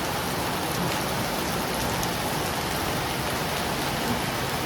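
Steady rain streaming down a window, a dense, even hiss of water that holds at the same level throughout, with no voices.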